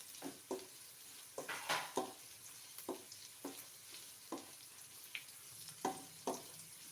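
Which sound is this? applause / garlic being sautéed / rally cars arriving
garlic being sautéed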